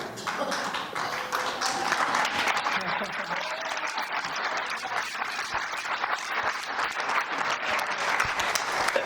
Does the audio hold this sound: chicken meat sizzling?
no